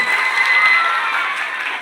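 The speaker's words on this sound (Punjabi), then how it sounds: "ਜੋਰ ਦਾ ਤਾਲੀਆਂ ਸਰਪੰਚ ਸਾਹਿਬ ਦੇ ਨਾਮ ਤੇ" Applause and cheering from a village crowd at a Teeyan festival gathering at a government senior secondary school, honouring the sarpanch; dense, steady clapping mixed with crowd noise, sustained throughout.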